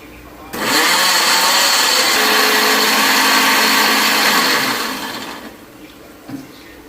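A mixer grinder whirs loudly as it blends chutney, spinning up abruptly, holding a steady high-pitched roar for several seconds, then winding down and stopping.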